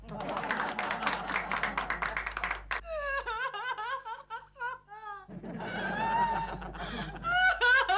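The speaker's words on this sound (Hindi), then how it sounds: "तालियां।" Clapping fills a sitcom office scene, brisk and dense at first alongside some laughter, then fading out as voices take over.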